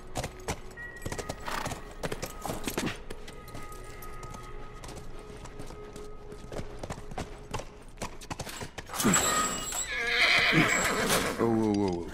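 Horse in The Last of Us neighs loudly and whinnies near the end, after steady clip-clop hooves through most of the clip, with game ambience and occasional clatter.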